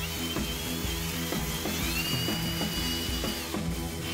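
A cordless electric drill mounted on a homemade electric bike whirs steadily, its motor whine rising and falling in pitch with rhythmic mechanical clicks and knocks underneath, close and loud without any talking.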